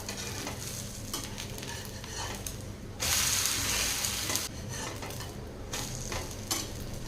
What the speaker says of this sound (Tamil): ஓரங்கள் வந்து இந்த மாதிரி எடுத்து விட்டுட்டு திருப்பி போட்டுக்கலாம்